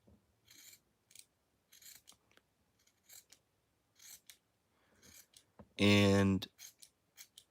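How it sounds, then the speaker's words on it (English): Sharp scissors cut fabric for a custom sewn plush in a series of crisp snips, with one longer, louder rasping cut near the end; a voice speaks briefly between the cuts. "These scissors aren't too bad."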